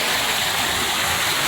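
River water flows steadily by a village farm, a continuous close hiss and rush of water with no voices.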